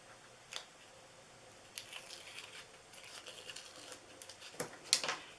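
Tear tape being peeled off a handmade DIY gift box, heard as faint, soft ripping and crinkling bursts scattered across a quiet room, with a sharper tear near the end.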